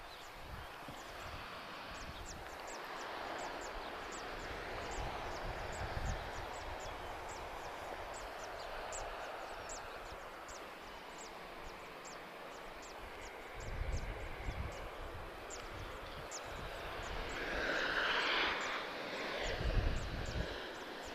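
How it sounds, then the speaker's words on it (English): A Transavia Boeing 737-800 touching down at Lisbon Airport, a steady jet engine roar with rumbling surges and a louder swell near the end of a long pass. "This is a 737-800. She's just about to touch down now."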